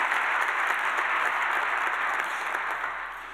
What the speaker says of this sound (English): I'd like to take a moment and give them a round of applause